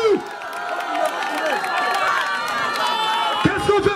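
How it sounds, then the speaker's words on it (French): A crowd at a DJ performance cheers and applauds for a gang's manager, loud and continuous, with musical tones and voices mixed through the noise. "J'aimerais que vous applaudissiez Anno Jaguar, le manager de la Yoro Gang"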